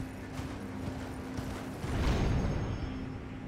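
A horse's hooves clip-clop in steady rhythm while riding in the Elden Ring video game, with a louder rushing swell of footfalls and motion partway through and a faint whinny.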